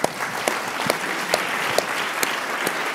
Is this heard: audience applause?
yes